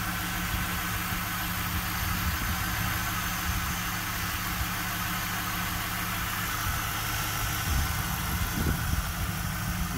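A 1998 Pontiac Trans Am WS6 with a factory-stock exhaust idles steadily, its smooth, continuous engine rumble low and even with no voices over it.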